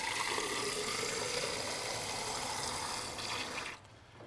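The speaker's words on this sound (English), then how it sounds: "Turn my water on." Tap water runs steadily to rinse a used water filter prefilter cartridge, a continuous broadband gush at close range that drops away sharply near the end as the flow is shut off.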